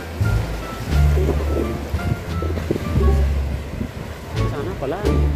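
Steady surf and rolling waves wash in at Pantai Anggar beach in Sibolga, Indonesia, under a person talking throughout, with some wind noise on the microphone.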